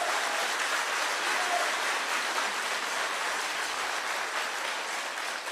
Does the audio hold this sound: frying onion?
no